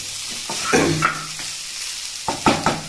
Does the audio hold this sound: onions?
yes